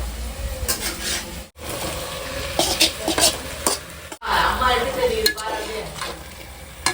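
Chicken tossed into a pan of sizzling onion, tomato, ginger-garlic paste, mint and coriander masala for biryani, with loud frying hiss, spoon stirring and scraping against the pot, and brief clanks.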